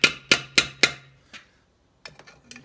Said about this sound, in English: take a hammer and just tap it